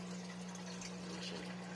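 A DIY aquarium protein skimmer pump hums steadily under a soft wash of bubbling, churning water, close and continuous.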